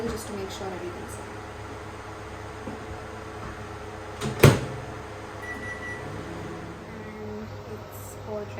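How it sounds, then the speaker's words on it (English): A microwave oven hums steadily with a low mechanical drone while a salted caramel mug brownie cooks, broken by a single sharp knock or door-like clunk midway, and a person talks over it. "popping this into the microwave for 1 minute 30 seconds"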